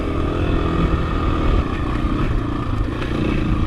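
A dirt bike's engine drones loudly and steadily while riding, heard close up with a constant rough roar and slight rattle throughout. There are no pauses and no voices.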